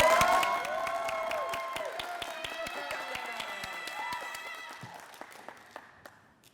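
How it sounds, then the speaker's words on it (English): Graduation crowd at the Palm Beach Lakes Community High School ceremony applauding the class of 2020, a steady wash of clapping that slowly thins and fades, with sharp isolated claps near the end and tonal sounds mixed in. "Please join me in applauding Palm Beach Lakes Community High School class of 2020."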